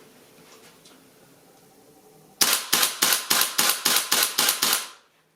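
A GBLS DAS MK18 airsoft rifle fires about nine sharp, evenly spaced semi-auto shots in a quick burst, loud and close, after a quiet indoor background.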